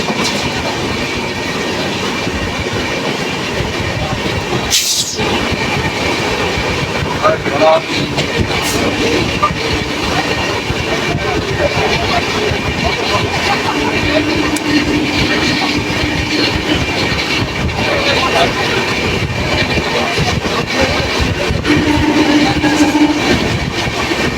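The 13153 Gour Express night train from Kolkata to Malda rumbles loudly with a steady clickety-clack of wheels on rail joints, a sharp burst of passing noise cutting through near the start.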